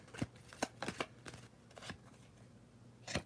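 A tarot deck is shuffled and cards are pulled, producing a quick run of crisp riffling snaps near the start, then quieter handling and a final snap, close and faint with no talking.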